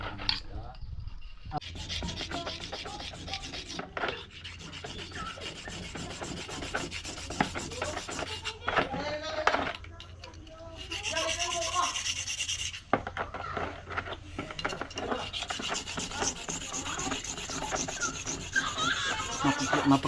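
Wood is sanded or rubbed smooth by hand, giving steady rasping strokes at a fairly faint level with brief pauses between passes.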